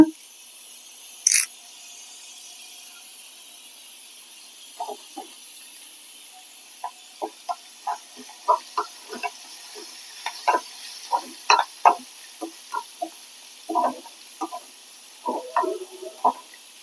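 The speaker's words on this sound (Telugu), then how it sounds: "ఇప్పుడు కొంచెం కరివేపాకు కూడా వేస్తున్నా." Curry leaves crackle as they drop into hot oil while prasadam is cooked for Dussehra, with a run of short, sharp sizzling pops spread over a fairly quiet background.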